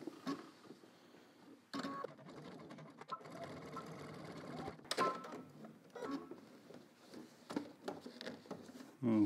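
A sewing machine stitches denim slacks in short stop-and-start bursts of clattering, rhythmic needle noise, mixed with irregular taps and handling sounds, all fairly quiet.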